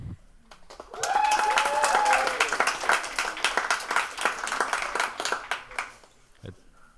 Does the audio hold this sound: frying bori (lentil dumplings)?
no